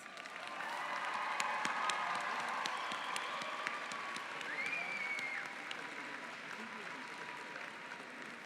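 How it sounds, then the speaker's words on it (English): Guests in a large hall at a Simmons University graduate commencement ceremony give a round of applause for family and friends. The clapping sounds soft and distant and holds steady with scattered voices and whoops before easing slightly. "join me in thanking your family and friends with a round of applause."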